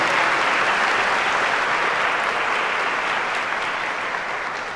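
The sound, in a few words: congregation applauding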